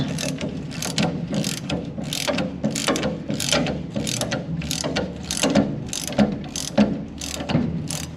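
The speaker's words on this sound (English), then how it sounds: "I'd like to get a couple threads started with the quarter-inch drive socket" A quarter-inch drive ratchet clicks rapidly and rhythmically up close as a socket threads bolts during a Bilstein 5100 suspension install, in steady bursts of ratcheting strokes with no talking.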